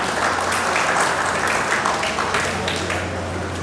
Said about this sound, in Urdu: زوردار تالیوں کے ساتھ استقبال کیجیے۔